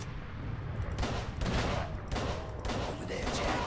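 Bursts of gunfire ring out in the Call of Cthulhu: Dark Corners of the Earth video game, three or four rapid volleys over a steady game backdrop, fairly faint.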